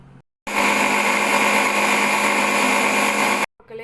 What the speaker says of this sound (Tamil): இப்போ நம்ம நல்லா இதை ஜூஸாக அரைச்சி கொண்டு வந்துடலாம்